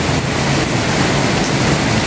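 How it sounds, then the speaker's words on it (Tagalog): The first rain of 2025 pours down steadily on a January afternoon, a loud, dense, unbroken hiss with no pauses. "Ito yung pinaka-unang ulan talaga ng 2025."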